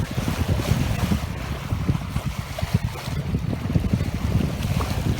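A sailboat runs under spinnaker on a lake, with rushing water along the hull, lapping waves and gusty wind buffeting the microphone, steady and close throughout.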